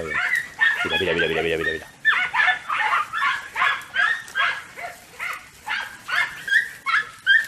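Andalusian podenco hunting dogs yelp and bark in rapid, repeated bursts at close range, a near-continuous excited chorus, with someone briefly speaking over them.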